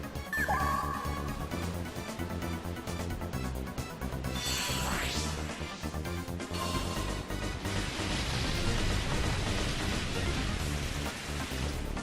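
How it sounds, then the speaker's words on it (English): Steady rain falls in a coliseum arena during a Pokémon Battle Revolution match, a loud continuous wash of drops mixed with game music and a sweeping whoosh effect, with no talking. "Rain will continue to fall here in the commentator's booth as well as in the Coliseum."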